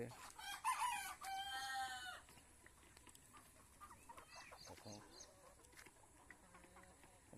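Chickens at a desi egg farm in Odisha, kept inside a green-net boundary, give scattered clucks and a loud rooster crow at the start, with softer fowl calls continuing over farmyard background noise.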